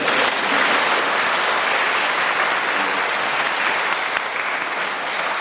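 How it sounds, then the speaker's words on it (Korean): A large church audience claps continuously and loudly, a dense, even wash of applause that holds steady throughout without any voices on top. "박수 한 번씩 하세요."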